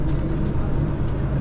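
An empty semi-truck pulls away and builds speed, its deep engine rumble steady and close inside the cab, with a faint rattle over the drone.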